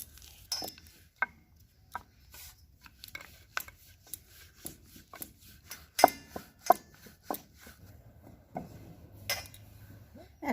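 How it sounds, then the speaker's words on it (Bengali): White dough for puli pitha is rolled out with a rolling pin: soft, irregular knocks and rubbing taps spaced across several seconds, quiet and close. "এবার আমি সাদা রুটিটা আমি আগে বেলে নেবো"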